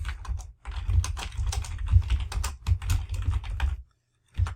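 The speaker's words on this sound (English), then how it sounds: "We're going to type in our description." Rapid clatter of computer keyboard keys being typed, close and fairly loud, in bursts with a brief pause near the end before a final few keystrokes.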